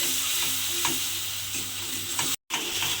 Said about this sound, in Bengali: সেই পোস্ত আর কাঁচা লঙ্কা বাটাটাও কিন্তু আমি তেলের মধ্যে দিয়ে দিলাম। দিয়ে এবারে খুব ভালোভাবে এটা একটু কষিয়ে নিতে হবে।